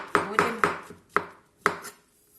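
A knife chops mushrooms on a cutting board in a home kitchen, five or six sharp, close thuds at an uneven rhythm with brief pauses between.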